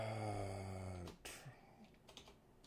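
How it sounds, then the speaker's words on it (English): Someone typing on a computer keyboard: a few sparse, light key clicks that follow a steady droning hum, fairly quiet and with no voices. "I should not be typing."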